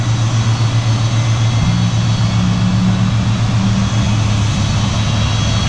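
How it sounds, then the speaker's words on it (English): Loud, continuous roar of a FedEx Boeing 767-300F cargo jet's engines at close range, with a steady low hum and broadband rushing noise throughout. "You hear the engines pulling up."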